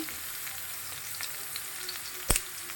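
Chopped carrots frying in ghee in a home kitchen pan, giving a steady, faint sizzle throughout with a few small pops and one sharper clatter near the end, no talking.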